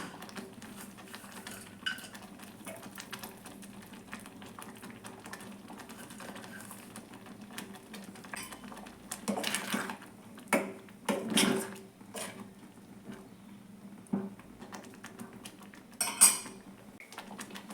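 Cardamom powder and fried dry fruits being stirred into sago carrot payasam, heard as quiet spoon clinks and scrapes against a pot over a low background hum, with a few louder stirring bursts near the end.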